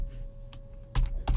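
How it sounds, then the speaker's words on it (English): Keys tapped on a computer keyboard while entering a URL, a few distinct clicks with two sharper strokes toward the end, close and fairly loud, with no voice. "First, we are going to type our URL,"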